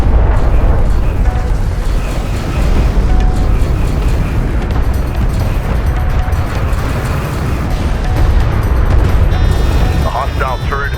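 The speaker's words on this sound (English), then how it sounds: "Enemy railgun firing on friendly." Booming blasts and rumbling explosions of an enemy railgun firing on friendly units in Homeworld: Deserts of Kharak, loud and continuous, with radio-style voice chatter over the barrage.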